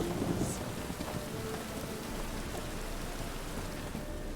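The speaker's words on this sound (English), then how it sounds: "It just rains and rains." Steady rain falls in The Witcher 3: Wild Hunt, an even hiss of drops on surfaces with a faint rumble of thunder near the start, heard with no talking.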